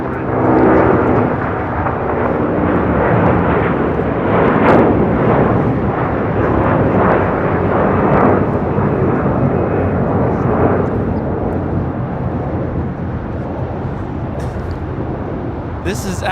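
A SAS Airbus A330-300 takes off at LAX bound for Copenhagen, its jet engines producing a loud, steady roar of broadband thrust that holds for the whole stretch.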